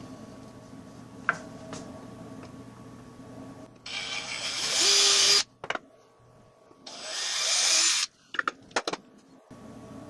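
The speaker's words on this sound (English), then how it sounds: "With our two 5/32" holes drilled into the end cap" A power drill bores two 5/32-inch holes into an end cap resting on a block of scrap wood, heard as two loud, close whirring bursts of a second or so each, with quieter handling clicks between them.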